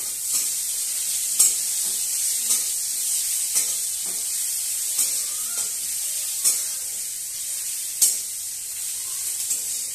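Chopped onion frying in a pan with dry red chilli, bay leaf and panch phoron, giving a steady close hiss broken by sharp clicks and stirring scrapes every second or two.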